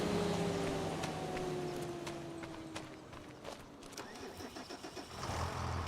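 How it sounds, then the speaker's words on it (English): A tractor engine in Farming Simulator 25 cranks and catches, settling into a mid-pitched idle with some rhythmic knocking, heard clearly at moderate level and alone without voices. "Oh, I was going to send the tractor down,"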